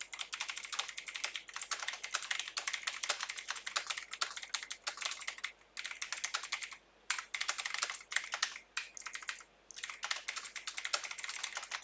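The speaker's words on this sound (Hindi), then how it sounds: "मैं इंस्क्रिप्ट कीबोर्ड का इस्तेमाल करते हुए टाइप कर रहा हूं मित्रों" Hindi being typed at speed on a computer keyboard with the InScript layout in Windows 11, a close, continuous run of rapid key clicks with only brief pauses.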